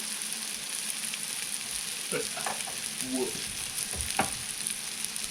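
An egg fries in a pan with a soft, continuous sizzle, broken by a few quiet clinks and scrapes of utensils midway.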